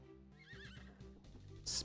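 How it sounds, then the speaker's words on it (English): A horse in the video game Blossom Tales 2: The Minotaur Prince whinnies once in a loud, wavering call, with a short burst of noise at the end. "Speedy horse."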